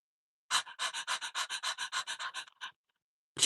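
A big, heavy dog pants hard and steadily, about fifteen loud, close breaths in a fast regular rhythm, alone with no talking, then a short pause before the panting resumes.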